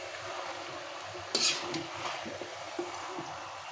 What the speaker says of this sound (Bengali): মাংসটা এখানে হালকা ভাজা হয়ে কষা হয়ে গেছে, আমি এখন গিলা কলিজাগুলো দিয়ে দিই।